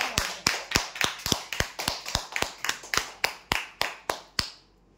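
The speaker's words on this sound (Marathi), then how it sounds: "यांच्यासाठी जोरदार टाळ्या" Rhythmic hand claps at a weekly lucky-draw event honoring a prize winner, about fifteen sharp, evenly spaced claps close by, with no talking, ending abruptly.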